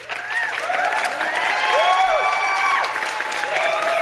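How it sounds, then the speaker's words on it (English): Live audience applauding steadily with a dense patter of clapping, a few whistles or voices faintly woven through, moderately close and sustained. "People are still applauding me?"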